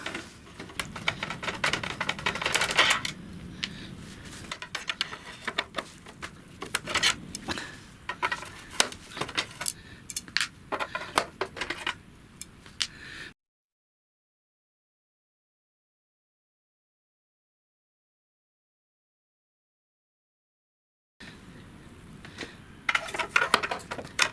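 Screws being unscrewed while a Sony ZS-D5 boombox with no power or CD playback is taken apart: a close run of small, irregular metallic clicks and scrapes, then a long stretch of silence before a brief return of handling noise.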